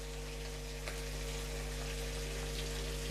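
Chopped tomatoes hitting hot oil and spices in a pan for a Bengali paneer masala, giving a soft, steady sizzle and crackle with a low hum beneath, faint and even, no voices.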